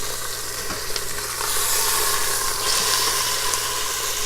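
Chicken breast sizzling steadily as it browns in an Instant Pot, a loud continuous hiss and crackle of frying with no voices.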